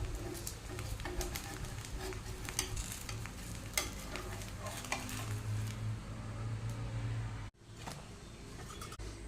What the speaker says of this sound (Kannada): ಬೇಗನೆ ಒಂದು ನೀರು ದೋಸೆ ಮಾಡಿ ಬ್ರೇಕ್ಫಾಸ್ಟ್ ಮಾಡ್ತೇವೆ